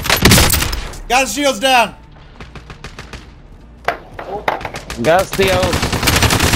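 Rapid bursts of automatic gunfire and single shots in a Call of Duty: Warzone Plunder match, loud and close, trading volleys with gaps between, while players shout over the shooting.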